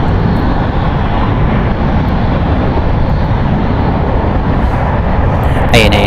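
Qatar Airways and United Airlines jets taking off at San Francisco International Airport make a continuous heavy engine roar, loud and unbroken, with brief faint clicks near the end.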